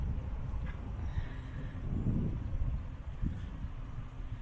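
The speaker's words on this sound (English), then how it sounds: "Even though it's a nice day, you can hear the breeze." Outdoor breeze rumbles and buffets steadily on a nice day near the water at Knott End, a low, continuous wind wash with a faint distant call in the background.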